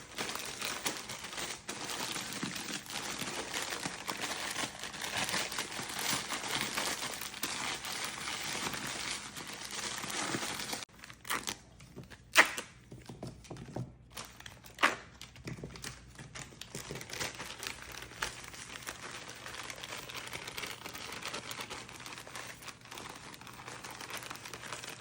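Food being crushed inside a crinkly plastic snack bag, dense crackling and rustling that is steady at first and then breaks into irregular crunches and crinkles, close and fairly quiet with no talk.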